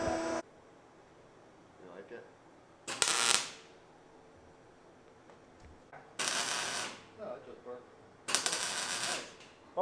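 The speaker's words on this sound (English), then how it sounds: "What we're doing right now is just doing a quick tack, put everything in place" Quick tack welds fixing a Valvetronic Designs universal muffler in place on a vehicle exhaust: several short, loud bursts of crackling arc noise, each about half a second to a second long, separated by quieter stretches of shop background.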